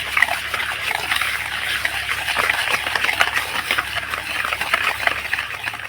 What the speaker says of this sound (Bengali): এই হ্যান্ড ওয়াশটা দিয়ে আমি চিনি আর টক দইটা একটু ভালো করে মিশিয়ে নেব।